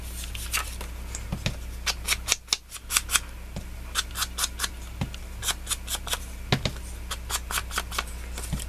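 Paper edges being distressed by hand for card making, a series of sharp, crisp scraping and snipping strokes repeating in quick irregular bursts, close and fairly loud with no talking.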